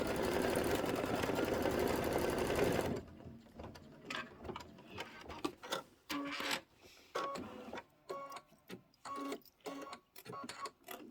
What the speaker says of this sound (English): we're going to start doing our satin stitching